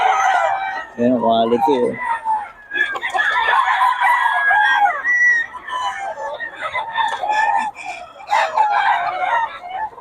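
Roosters from a farm crow repeatedly, loud and close, with clucking fowl around them, while someone talks over the birds.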